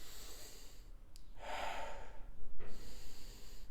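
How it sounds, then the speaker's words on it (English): Slow, calm breaths through the nose during a relaxation exercise, a soft inhale and exhale close up with no talk over them. "So those kind of calm breaths."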